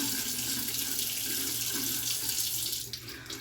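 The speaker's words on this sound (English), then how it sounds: "So I'm going to start by washing my face" Warm water runs steadily from a bathroom tap into a sink for face washing, a loud, continuous splashing rush that shifts slightly near the end as hands move through the stream.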